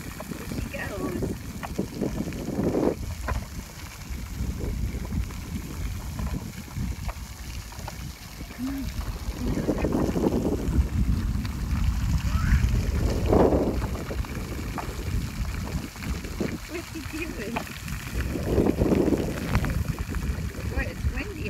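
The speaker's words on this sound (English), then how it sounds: "Boy, it's windy out today" Steady wind rushes and buffets the microphone outdoors beside the water at a splash zone, a continuous low roar that swells in gusts, with children and adults talking over it.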